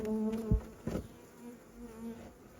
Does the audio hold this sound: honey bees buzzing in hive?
yes